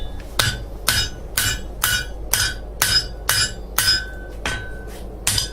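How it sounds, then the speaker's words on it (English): A blacksmith in Holywood, Northern Ireland hammers heated metal over an anvil: about ten sharp, ringing strikes in a steady, even rhythm, close and loud, with no voices. "I'll bend it over the anvil here."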